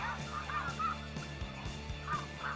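Snow geese honk in a dense, overlapping chorus during a spring hunt, many calls layered close and far over steady wind, with repeated low thumps running beneath.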